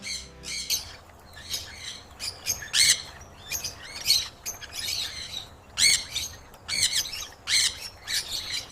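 Young Sun Conure chicks raised on a large farm squawk repeatedly in rapid, overlapping harsh bursts, close and loud, with steady rhythmic calling throughout.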